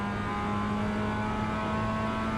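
Race cars in a sim racing video game hold a continuous engine drone with a steady pitch, loud and even throughout, with no voices.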